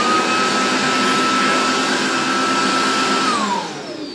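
A Riccar Tandem Air R40 twin-motor bagged vacuum cleaner runs with a loud, steady motor whine close up, then its pitch drops and it winds down as it switches off at the end.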